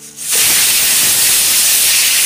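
Steam bursts out of a pressure cooker with a loud, steady hiss after a brief quiet moment and keeps rushing without letup.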